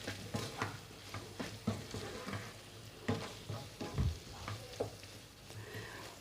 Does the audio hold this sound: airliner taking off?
no